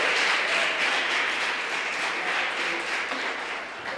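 Broad, dense applause fills a church service at a Portuguese-language sermon, a steady wash of many hands clapping at once, loud and sustained before easing slightly at the end.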